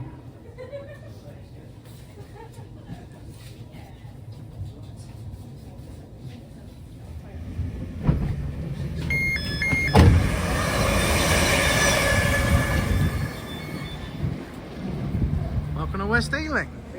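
A GWR Class 230 battery train arriving at West Ealing station, with a low rumble building into a louder rushing swell of motor and braking noise near the end, under speech.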